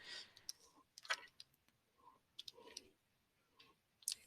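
Calculator keys pressed one after another while entering a predicted-value equation for a statistics problem, giving light irregular plastic ticks and clicks, fairly close and quiet, with no talking.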